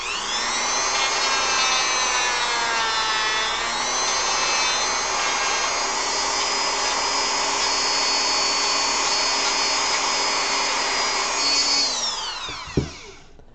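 A rotary power tool grinds a slight bevel onto the edge of a plastic scale model part for a Final Fantasy V build, a loud steady whine with shifting pitch running nearly unbroken before cutting off with a sharp clack near the end.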